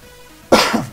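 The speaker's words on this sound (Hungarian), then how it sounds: "Ja, még most is köhögök." A single short, harsh cough, close and fairly loud, after a brief quiet moment.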